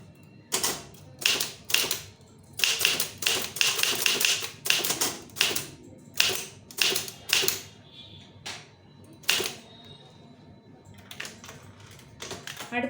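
Someone types a Tamil letter on a keyboard: crisp clusters of close keystrokes in uneven rhythm, separated by brief pauses, with a few isolated taps near the end and no talking.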